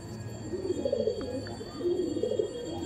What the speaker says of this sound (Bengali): এটা নর ছিল, এটা নর পায়রা